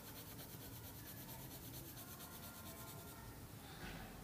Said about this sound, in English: I'm coloring one direction and then I'm coloring the other direction